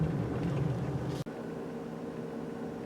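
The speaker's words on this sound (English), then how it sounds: "I think this exhaust sound is fake, but it sounds alright" A 2022 Lexus LC500h hybrid coupe drives along a road while its synthetic exhaust note plays as a steady, droning engine hum from inside the cabin, with a brief dropout partway through before the tone resumes.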